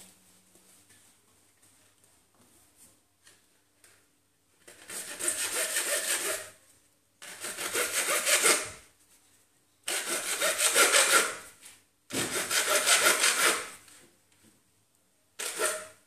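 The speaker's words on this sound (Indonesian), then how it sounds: "Kita gergaji sambil diputar mengikuti garis yang sudah kita buat." Hand saw cutting around a marked line in wood in five separate bursts of steady rasping strokes, close by, with short pauses between them.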